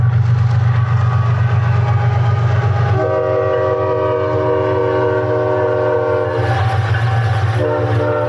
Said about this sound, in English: Just had the rumble of the train go by.